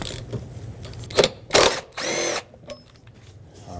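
A power drill with a T50 Torx bit spins out a seat belt bolt in a 2008-2020 Dodge Grand Caravan, giving a few short whirring bursts followed by a longer steady run.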